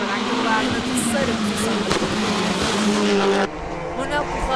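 Skoda Fabia S2000 rally car with a 2.0-litre engine racing uphill on a hill-climb course, loud engine roar with shifting pitch and tire noise, a commentator talking over it throughout.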